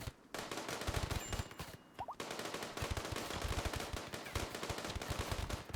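Rapid submachine-gun fire in the video game Rimworld, with dense overlapping bursts from several SMGs rattling almost continuously and only brief gaps between volleys, loud and with no talking.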